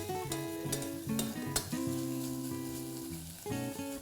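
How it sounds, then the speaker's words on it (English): Grated onions frying and being stirred in a pan for a green peas curry, a soft steady sizzle with stirring scrapes, fairly quiet and continuous, with tonal ringing sounds over it. "Cook the onions till they are nice and brown."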